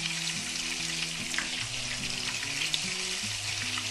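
Cheese sticks fry in hot oil, a continuous bubbling sizzle that holds steady and close throughout, with a low hum running beneath it and no voices.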